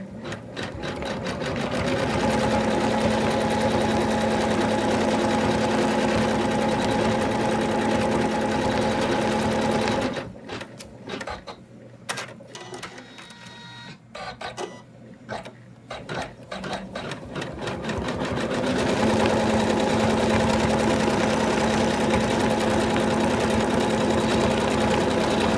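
An embroidery sewing machine stitches fabric for a Santa doll with a fast, steady mechanical whir, pausing briefly midway into slower, intermittent clicks before the rapid stitching resumes, loud and close.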